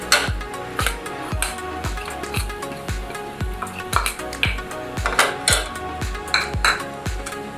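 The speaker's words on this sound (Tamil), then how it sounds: "நல்லா கலந்து விட்டுக்கலாம்." Metal spoon scraping and knocking against a pan as chili powder is stirred into mutton masala for a coconut milk gravy, sharp rhythmic clinks and scrapes repeating about once a second over a soft sizzle, close and clear.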